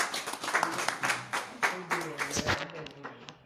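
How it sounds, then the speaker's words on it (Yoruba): A crowd at a Yoruba gathering in Ekiti claps for a speaker, with dense, uneven bursts of hand claps rising and falling at moderate distance, and voices talking underneath. "ẹ bá a pàtẹ́wọ́ fún bàbá Èkìtì"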